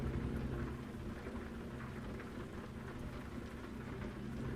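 Steady heavy rain falls during a night drive in the trucking game American Truck Simulator, a dense, continuous hiss with a low rumble underneath and no voices.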